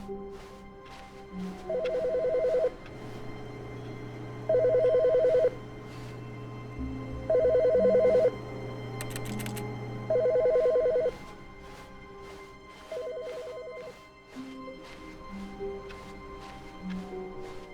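An office telephone in The Stanley Parable rings in repeated bursts at a steady pace, with low electronic background tones in between.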